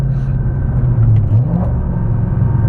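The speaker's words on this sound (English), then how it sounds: "We got Cook's 1 7/8 long tube headers, and a MagnaFlow exhaust" A Shelby GT500 with 1 7/8 inch long tube headers and a MagnaFlow exhaust, a deep loud rumble close by that swells briefly in a short rev before settling back to a steady growl.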